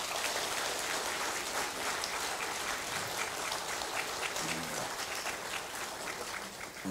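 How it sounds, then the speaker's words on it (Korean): Attendees at a Buddhist book-launch dharma ceremony on the Heart Sutra applaud: a continuous, fairly soft wash of many hands clapping at an even level, with a brief faint voice underneath. "박수를 한번 보내주십니다"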